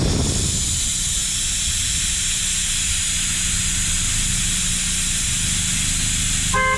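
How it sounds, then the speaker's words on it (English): Air hisses steadily out of a tire valve on a 2010 Cadillac SRX during a TPMS relearn, a loud, continuous close-up rush lasting several seconds, with a few short electronic beeps right at the end. "Make sure you got something to let the air out instead of your fingernail."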